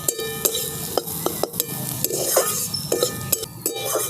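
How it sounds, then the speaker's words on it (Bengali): Onions and carrots fry with salt and turmeric in a pan while a spoon stirs them: regular sharp scrapes and clinks against the metal over a continuous close sizzle. "আবার খুব ভালো করে একটু নেড়ে নিচ্ছি"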